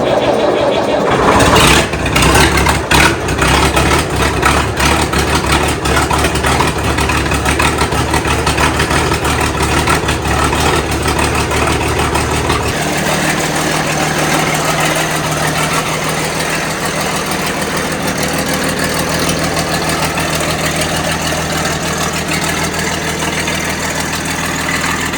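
An old farm truck, left sitting for two weeks in 25-degree winter cold, cranks and fires up, then settles into a loud, steady rough idle that continues throughout, close to the listener.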